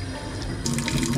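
Drinking water from Vranetó runs from a public tap on Cres island, Croatia, filling water bottles; a steady close splashing stream that brightens and grows louder partway through as the bottle fills.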